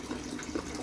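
Turbid lambic mash being emptied from a wooden barrel, a steady soft trickle and splash of liquid running out at moderate level, close by and continuous with no talking.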